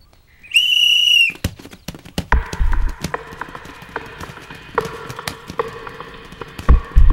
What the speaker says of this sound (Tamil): முதல்ல விசில் ஊதியா.